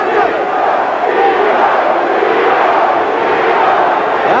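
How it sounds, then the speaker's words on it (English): Boxing arena crowd at a super welterweight bout roars and chants a fighter's name in a steady, dense wall of voices, loud and continuous throughout. "Now the crowd cheering Nino, Nino, Nino as they've come to his side."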